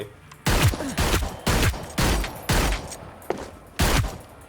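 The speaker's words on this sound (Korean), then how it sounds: "이게 총소리지" Heavy shotgun blasts in the video game Hyper Scape boom in a series of six loud shots, evenly spaced about half a second to a second apart, each ending in a short echoing tail.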